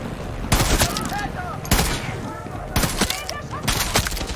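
Bursts of automatic gunfire crack out in Far Cry 6 in four separate volleys, loud and close, while someone talks between and over the shots.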